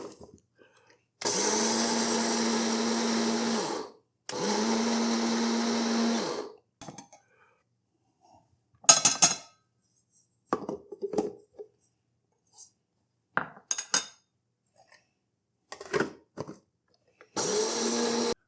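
Electric spice grinder whirring through mustard seeds in two loud sustained bursts of roughly three seconds each, with a cling-film cover over the top, followed by scattered short knocks and clatter as it is handled.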